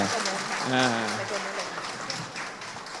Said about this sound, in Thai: ปรบมือดังๆครับไม่ต้องอาย